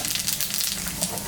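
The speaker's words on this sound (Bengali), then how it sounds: "শুকনো লঙ্কা, জিরা, সম্বরা দিলাম।" Dried red chillies and cumin seeds sizzling as they temper in hot oil left over from frying fish, a short steady crackle close up with no talk.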